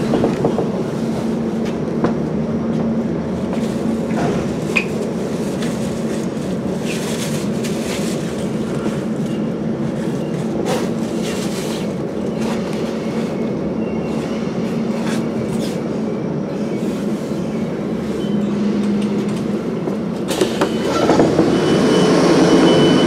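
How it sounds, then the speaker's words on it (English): Passenger train slowing into London Bridge station, a steady loud rolling rumble with rail clatter and brief squeals throughout, no voices. "Just pulled into London Bridge"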